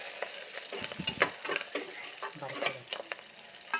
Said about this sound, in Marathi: तर चांगलं परतून घेऊया आपण।